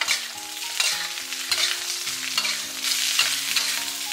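Cabbage stems and dried chilies stir-fried over high heat in a wok, with rhythmic spatula scrapes and tosses over a continuous loud sizzle, close up and without speech.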